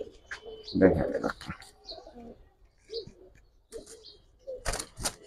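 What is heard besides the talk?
Lal Khaki male pigeons cooing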